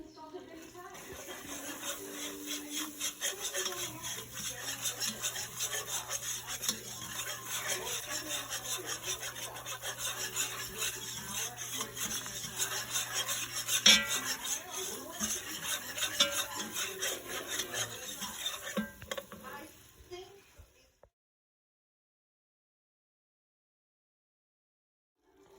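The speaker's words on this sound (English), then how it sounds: "I would slowly stir in my flour until I get the roux in to my thickness" Steady rasping scrape of a utensil stirring flour into browning butter for a roux, continuous and close for about twenty seconds before stopping abruptly, with a voice talking at times.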